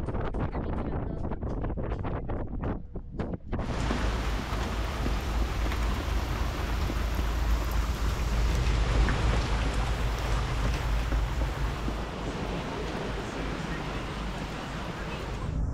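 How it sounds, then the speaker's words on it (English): Steady rain hisses and patters on a sailboat moored at Isla Mujeres, a dense continuous wash of drops, with brief clattering handling sounds before it sets in and faint talk underneath. "My sanding cut short because of the rain"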